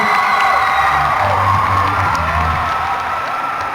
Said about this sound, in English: Can we give our Miss Universe Philippines another round of applause, please?